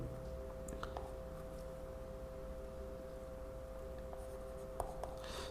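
Faint scratching of handwritten notes during a biology lesson on cell theory, soft and continuous under a steady electrical hum, with a couple of sharper taps near the end and no talking.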